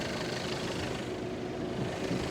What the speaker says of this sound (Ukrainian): Отак працює, мурликає дизель, жодних зауважень.